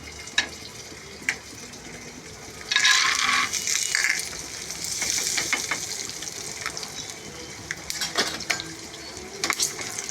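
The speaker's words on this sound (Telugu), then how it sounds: "అలాగే వేరుశనగ పలుకులు వేయించుకుందాం." Peanuts fry in hot oil, heard as a soft sizzle punctuated by sharp clinks and scrapes of a utensil stirring against the pan, with a brief louder burst of crackling midway.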